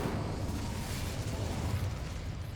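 Incendio fire spell cast in the Hogwarts Legacy video game: a steady, loud whooshing blast of flame with a deep rumbling roar, sustained across the whole moment with no talk.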